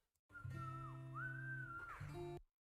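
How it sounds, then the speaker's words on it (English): A melodic whistle carries a wavering tune over the steady synth bed and bass of Pokemon-and-chill style background music, clear but moderately soft, lasting about two seconds. "Is there whistling in this music?"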